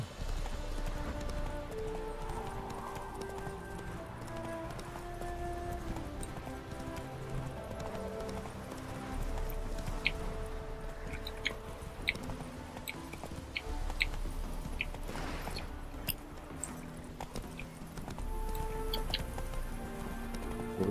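Roach the horse's hooves clip-clop steadily in The Witcher 3, a rhythmic gallop under a busy layer of game music and ambience, with no speech.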